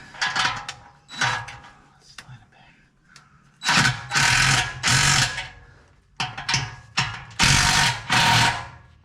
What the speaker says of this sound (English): Alright, so we're gonna tighten this clamp up.